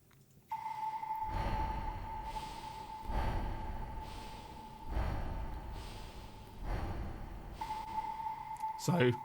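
Slow, deliberate breaths in and out, recorded for a song and treated with reverb, repeat several times over a steady sustained tone, with a soft whooshing airflow rising and falling.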